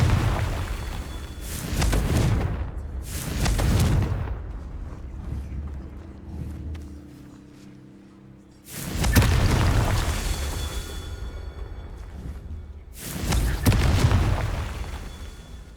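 Confringo fire spells in Hogwarts Legacy burst into heavy booming explosions, four big blasts spaced a few seconds apart, each with a roaring rumble that fades between hits.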